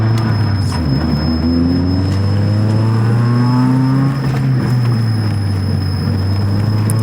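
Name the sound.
grinding brakes on a Toyota Celica ZZT231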